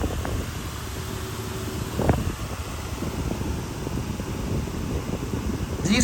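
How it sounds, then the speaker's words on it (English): A 9-inch high velocity fan with a Sable C-frame motor runs with a steady whooshing airflow and faint mechanical hum, a brief knock partway through. "It's a typical 9-inch high velocity fan."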